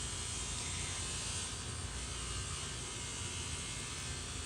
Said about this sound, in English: Sorry, somebody is sawing something.